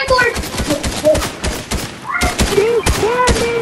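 A cannon fires in the Fortnite video game, giving a rapid string of sharp booms and impacts mixed with other gunfire, while players talk over the action.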